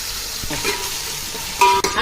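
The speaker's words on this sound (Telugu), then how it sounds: "మసాలా అంతా మొత్తం ఆయిల్లో ఉడకాలండి" Ghee-based masala with curry leaves, onions and bay leaf frying in oil for egg biryani, a steady close sizzle with soft stirring scrapes and a sharper burst of hissing near the end.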